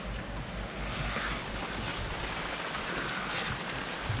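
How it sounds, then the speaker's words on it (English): Sudden springtime torrential downpour outdoors, heavy rain hammering surfaces in a constant dense roar with a low rumbling undertone, steady and close throughout. "I had all the tools out and then that torrential downpour."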